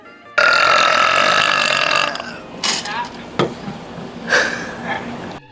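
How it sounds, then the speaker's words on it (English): A girl lets out one long, loud, croaking burp, then a few shorter burps, close to the microphone. "big burps and hiccups, and the classic burping by the window"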